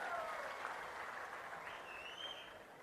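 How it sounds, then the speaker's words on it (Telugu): A large crowd at a Andhra Pradesh government event applauds steadily and softly at a distance, a dense even wash of clapping with faint voices and whistles mixed in. "వాళ్ళు గట్టిగా చప్పట్లు కొట్టి అభినందించండి."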